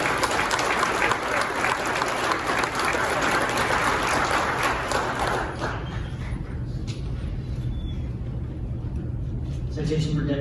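Audience applause at a county sheriff's department promotion and awards ceremony, dense clapping from a large crowd filling the room for several seconds before thinning out into scattered claps.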